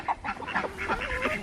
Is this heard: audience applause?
no